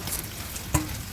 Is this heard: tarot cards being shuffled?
no